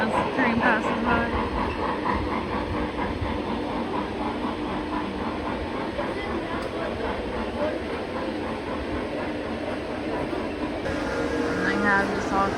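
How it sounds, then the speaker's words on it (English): A small electric train runs past a miniature drive-in movie theater display in a train museum, its soft rhythmic clatter continuous and close, with a faint voice nearby. "They're showing the train as the train passes by."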